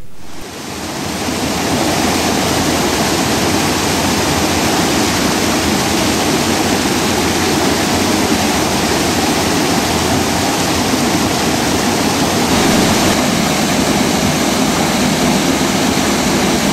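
Hogenakkal waterfall roaring, a dense, steady wash of pounding water that holds loud and unbroken throughout, with no voices.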